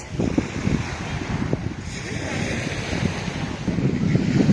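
Wind-buffeted surf rolling in along Bowen Beach, a white sand beach in Australia, a continuous low rumble of waves with gusty microphone noise over it.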